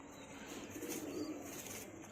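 A male Guldar pigeon coos softly at close range, a low steady murmur in a quiet space with faint background noise.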